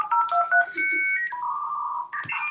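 Telephone dialing tones of a 1990s dial-up internet connection, a quick run of bright electronic beeps and shifting pitched tones, loud and close, with no talking.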